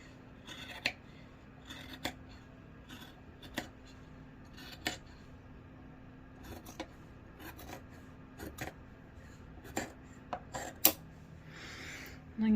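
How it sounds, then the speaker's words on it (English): Scissors cut fabric along marked lines for a doll skirt, giving quiet intermittent snips and rasping slides of the blades, spaced irregularly over a faint background. "I'm just going to cut along my lines."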